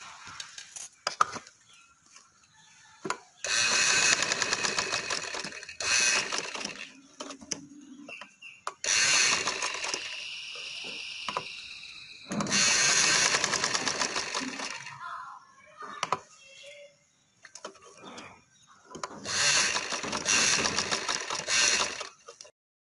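A sewing machine stitches along the edges of fabric for a daman, running in several bursts of steady rapid whirring separated by quiet pauses, close and moderately loud.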